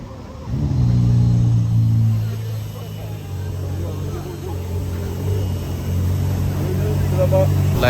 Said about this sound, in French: La SF, elle a démarré en thermique, elle n'a pas démarré en électrique, elle a fait un bruit.